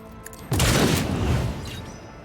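A frag grenade in Warhammer 40,000: Rogue Trader bursts with a sudden, loud, close boom that rumbles briefly and then fades out.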